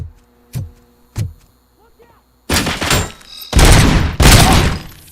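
Video game gunfire: two sharp isolated shots, then a louder run of heavy blasts and bursts, close and punchy, with game voices mixed in.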